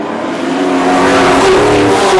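Pack of European late model stock cars roaring away at the green flag to start the feature final, a loud sustained engine drone with rising revs and a wash of overlapping motors close by.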